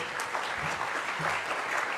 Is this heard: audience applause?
yes